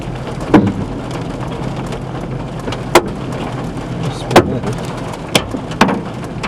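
Hailstones strike the hail guards of a storm-chasing car during a supercell thunderstorm, landing as sharp, irregular knocks over a steady patter and rumble of driving.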